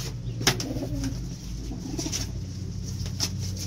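Low throaty pigeon cooing with a brief flutter, set against constant background noise.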